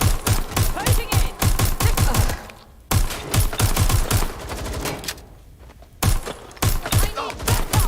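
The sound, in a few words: gunfire in Watch Dogs Legion video game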